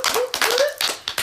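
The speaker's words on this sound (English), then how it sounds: "So give yourselves a round of applause." A short round of applause from a small group, a few hands clapping in a quick, uneven patter, close and brief.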